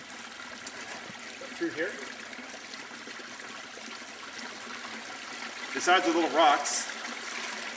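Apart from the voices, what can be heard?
stream water trickling through a road culvert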